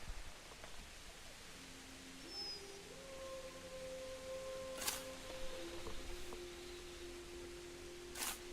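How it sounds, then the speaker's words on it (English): The butcher's dog in Kingdom Come: Deliverance gives a faint, drawn-out howl that rises and wavers in pitch over several seconds, heard from some distance. Two brief sharp clicks cut in near the end. "There's the butcher's dog."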